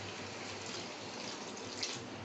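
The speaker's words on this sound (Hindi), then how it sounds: "1 कप के करीब पानी मैंने इसमें डाला है।" Water poured into a karahi pan of ginger-garlic paste while cooking chicken white karahi, a continuous rushing splash with no pauses or voices.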